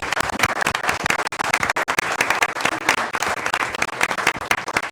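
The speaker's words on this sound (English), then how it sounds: "let's give one more round of applause for all of these unbelievable GEM winners" Sustained applause from a crowd at a school district board meeting, dense rapid clapping filling the whole stretch at a steady, fairly loud level with no voices standing out.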